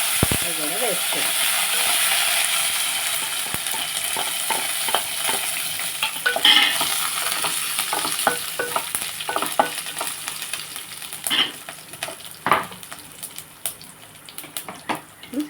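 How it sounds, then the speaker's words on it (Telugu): Mustard seeds and cumin sizzle in hot oil as tempering for rasam, a steady close hiss broken by scraping stirs, little pops and spoon clinks throughout. "చారు తాలింపు వేసేద్దాం."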